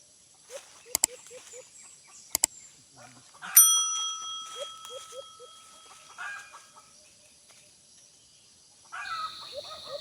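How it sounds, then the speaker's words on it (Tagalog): A chicken clucks in short repeated bursts, joined by sharp metallic rings and a brief rattle, with a louder squawk near the end. "sobrang ingay ng manok"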